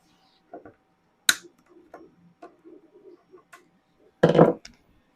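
Short, sharp snips and clicks as the ends of edge banding are trimmed by hand, a few scattered light ticks followed by one louder crisp cut near the end, close up in a quiet room.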